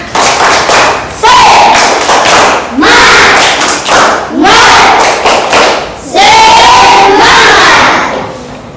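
A school class claps in a quick rhythm while shouting a chant together, loud and close, in several bursts.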